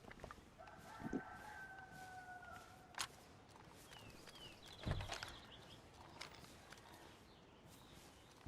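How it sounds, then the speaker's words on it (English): Odd bird calls from the wild in the DayZ survival game, set in early-winter Chernarus: a few thin tonal chirps and whistles over steady ambient noise, with a couple of soft thuds and footsteps. "I heard that weird bird again."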